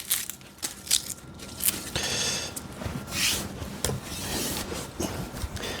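Papery outer skin of an onion being rubbed and peeled off by hand in a restaurant kitchen, giving soft, close crinkling and scratchy rasps in irregular bursts, quiet and without talking.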